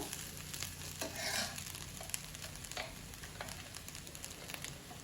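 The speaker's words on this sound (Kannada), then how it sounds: "ಈಗ ಇದನ್ನು ಚೆನ್ನಾಗಿ ಮಿಕ್ಸ್ ಮಾಡಿಕೊಡ್ಬೇಕು" Cooked rice is stirred and folded into capsicum masala in a hot pan, giving a steady soft sizzle with scraping and spatula clatter, close and continuous, with no talking.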